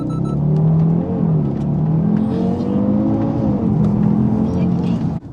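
Audi RS3 under hard full-throttle acceleration in manual mode, its engine note climbing through rising pitch sweeps with brief dips at gear changes, loud and close from inside the car, a voice talking over it.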